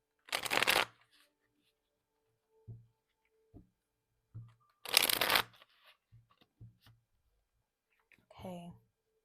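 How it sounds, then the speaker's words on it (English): Tarot cards are shuffled during a pick-a-card reading. Two loud riffling bursts are broken up by soft taps and clicks from the cards being handled, all close and quiet apart from a brief murmur at the end. "Let's just shuffle these cards."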